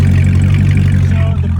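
A Corvette C6 Z06 V8 with its exhaust dumped at the axle runs loud and close, a steady deep idle rumble with strong low-end throb holding for the whole stretch.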